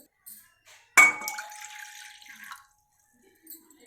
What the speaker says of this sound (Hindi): इसमें कप से 2 कप पानी डालेंगे